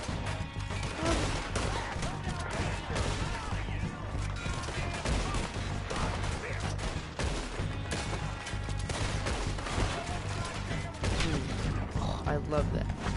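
Gunfire in the video game Red Dead Redemption 2, a dense run of shots and impacts over a continuous game soundtrack, with a voice talking throughout.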